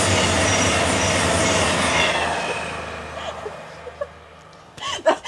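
A King's Cross to Aberdeen service roars past a railway carriage converted into a hotel, loud broadband rumble and wheel noise fading over several seconds, followed by a few faint clatters and a brief close knock.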